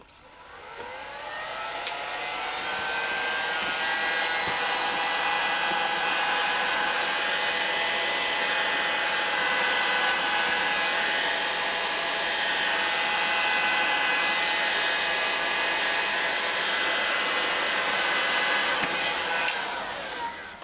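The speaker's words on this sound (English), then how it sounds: "my hot gun so you won't hear much for a while." A heat gun blows continuously to reactivate glue on a knife sheath, a loud steady whooshing hiss that runs unbroken for about twenty seconds after a brief click-on, with no voices.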